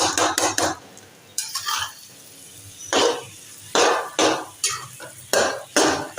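Anda ghotala egg mixture is stirred in a pan with a spoon, giving a series of sharp scraping and clinking strokes in an irregular rhythm, close and fairly loud, with quiet gaps between strokes.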